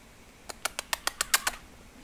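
Crow wings flapping in the zombie video game ZombiU: a quick run of eight sharp, evenly spaced beats as the bird takes off, fairly close and alone without talk.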